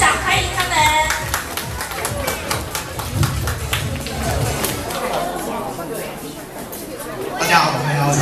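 An audience at a primary school Christmas show claps over lively chatter and crowd noise, a loud, busy mix of hands and voices that swells near the end.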